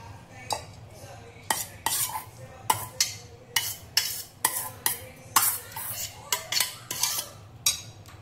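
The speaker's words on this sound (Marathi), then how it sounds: "किसलेलं गाजर आणखी काकडे ते आपण ह्याच्यात टाकून मिक्स करूया।" Grated carrot and cucumber are stirred into a paneer and yogurt mixture in a bowl, giving a series of irregular scraping clinks of a spoon against the bowl over a low steady hum, close up with no talking.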